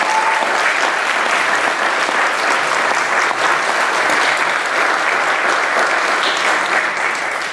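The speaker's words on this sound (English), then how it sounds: "Dean Saunders deserves a tremendous round of applause for his vision." An audience at a high school keynote event gives a loud, sustained round of applause that fills the whole stretch without a break.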